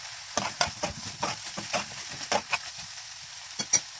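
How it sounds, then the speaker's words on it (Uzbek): Bell peppers and eggplant fry in a pan, a soft steady sizzle broken by repeated scraping stirs and clinks at close range, with no voices. "Bolgarskiylarni ham 5 daqiqa qovurib olib, undan so'ng baqlajonlarimizni solib,"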